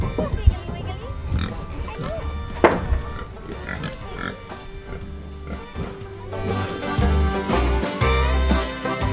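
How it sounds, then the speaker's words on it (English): Pigs grunt and oink in short bursts at close range as they are let out of a barn onto a farm, with a person speaking over the animal sounds and scattered movement noise. "So we're gonna let them out, let them do pig things."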